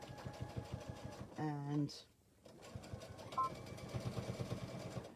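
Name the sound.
sewing machine stitching fabric pouch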